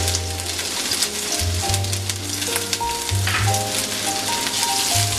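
Chopped garlic and ginger sizzle in about a tablespoon of hot oil for Chicken Manchurian, a steady, dense crackling hiss running throughout with a low tonal hum beneath, close and fairly loud, no voices.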